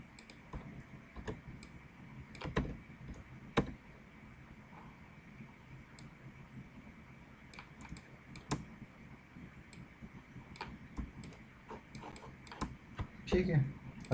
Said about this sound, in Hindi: मैं फिर शिफ्ट सी प्रेस करूँगा और इसको मूव करूँगा